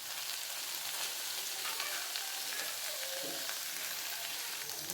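Ginger garlic paste frying in a pan gives a close, steady crackling sizzle, with brief scraping stirs now and then. No one speaks.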